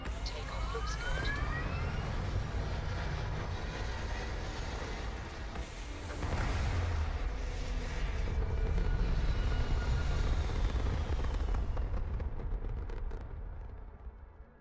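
A spaceship lifts off in Starfield, a loud sustained roaring engine rumble with rising whine that swells midway and holds steady before tapering off near the end.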